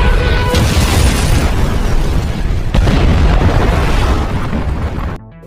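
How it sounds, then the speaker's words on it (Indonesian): A military base explodes in a film scene: a loud, sustained blast roars with rumbling debris for about five seconds, then cuts off abruptly. "sebentar lagi markas ini akan meledak"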